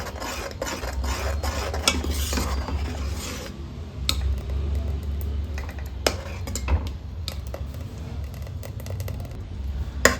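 Milk with china grass is stirred in a pan over a low flame, a soft continuous scraping with occasional light taps of a spoon on the pan over a steady low hum.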